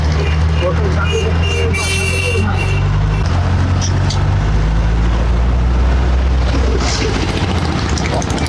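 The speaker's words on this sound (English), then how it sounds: "It's a tractor." Tractor engine rumbling past on a bumpy road in Turkey, a loud close drone with shifting pitch mixed with other traffic and a horn toot, with people talking over it.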